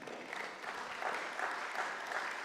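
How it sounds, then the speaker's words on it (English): Audience applause fills a partnership agreement signing and project kick-off event, a steady, moderately distant wash of many hands clapping without pause. "applause for Dr. Johanna"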